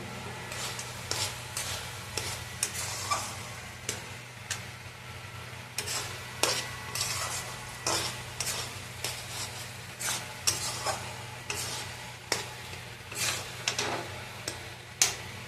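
Carrot halwa is stirred in a pan after chopped dry fruits go in, a spatula scraping and tapping in a steady rhythm over a low sizzle, close and without any talk.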